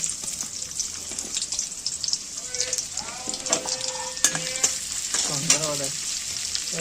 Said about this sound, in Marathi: तर आता हे परतून घ्यायचंय, कांदा वगैरे मस्त पैकी.